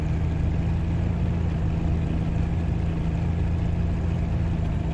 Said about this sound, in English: Rear engine is handling it like a champ.